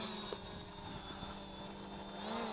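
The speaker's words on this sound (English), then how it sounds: "Arming the motors. And taken to the air again by pressing down the automatic takeoff button." A Potensic D60 GPS camera drone's motors whir steadily at takeoff, a continuous buzzing drone that holds level throughout and rises slightly in pitch near the end.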